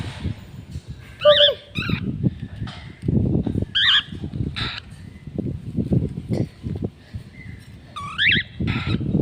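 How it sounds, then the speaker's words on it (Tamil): Chickens cluck and squawk in short, scattered calls over a low background rumble, several bursts spread across the stretch. "கருப்பி கோழி குச்சி பாரு, கருப்பியை போட்டு கடிக்குது."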